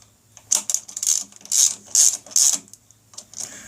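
Oil cooler bolts on a BigDog motorcycle tightened with a ratchet, a series of quick clicking bursts in short uneven strokes, close and fairly loud with no speech.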